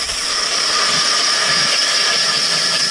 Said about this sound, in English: I got the drill on the auger.